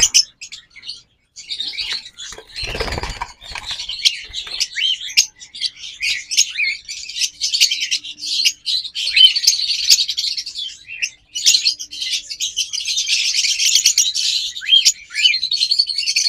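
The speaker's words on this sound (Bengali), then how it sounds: "এরপর এখানে আরো একটা চমৎকার পারব্লু জোড়া আছে, দেখুন" A pair of parblue pet birds chirping, with rapid, bright, overlapping tweets and calls running almost continuously, close by and fairly loud, with a brief rustle or flutter early on.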